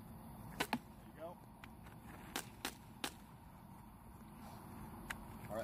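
A pump-powered launcher fires a handful of sharp, snappy pops in irregular pairs and singles, close by, over a low steady background rumble.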